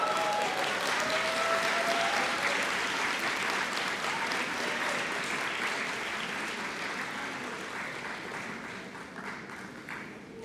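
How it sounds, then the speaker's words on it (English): Graduates and guests at a Penn State Brandywine fall commencement give a sustained round of applause from a large crowd that holds steady, then slowly fades over about ten seconds. "Graduates, please stand and give your parents, grandparents, brothers and sisters, aunts and uncles, spouses, children,"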